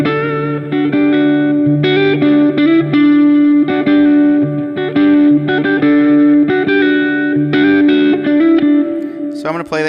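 Electric guitar playing the bridge section of a song, with effects, reverb and echo on a steady run of rhythmic picked notes, loud and close, no voice over it.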